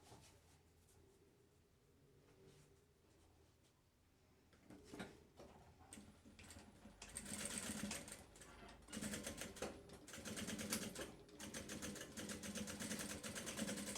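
A sewing machine runs a safety seam on a fabric Bible cover flap, starting quiet and then settling into a steady, fast, close stitching rattle with short pauses.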